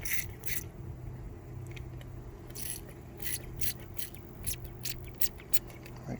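Sugar water is misted from a handheld spray bottle onto a mated queen bee, close crisp hissing squirts coming in irregular bursts, several quick pumps clustered toward the end over a faint background hum.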